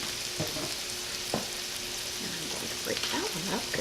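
Sliced mushrooms frying in a pan for a keto turkey fricassee, giving a steady close sizzle with soft stirring scrapes throughout.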